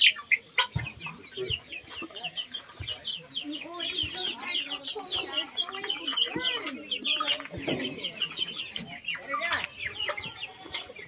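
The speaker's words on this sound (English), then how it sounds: "And some of our chickens are over here." A flock of backyard chickens cluck and chatter close by in irregular bursts, with some sharper calls and faint bird chirps mixed in and no talk.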